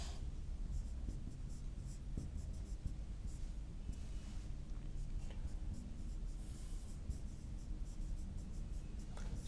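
Steady, faint scratching of a pen writing out the chemical structure of EDTA, continuous over a low room hum with no one speaking.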